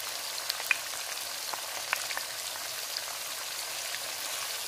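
Mutton frying in a pan with garlic, ginger and green chili paste, giving a soft, even crackling sizzle with scattered pops, fairly quiet and without any voice.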